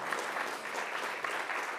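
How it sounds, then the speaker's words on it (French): Audience applause at a talk about acting for the planet and health, a steady wash of clapping from a crowd, fairly soft and even throughout, with no voices over it. "on peut l'applaudir."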